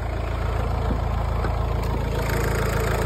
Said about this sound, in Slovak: možno to bude zle počuť kvôli tomu motoru, tak ho vypneme